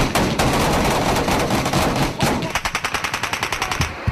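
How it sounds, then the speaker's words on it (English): Enemy gunfire during an attack on an infantry platoon in Afghanistan: sustained, loud automatic bursts and rapid shots crackle continuously, then break into a quicker string of distinct close reports near the end. "2nd Platoon was under a full-scale attack, virtually surrounded by enemy fire"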